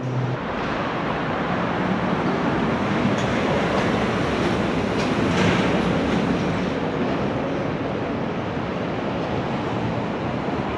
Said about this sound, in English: So here we are at the monorail.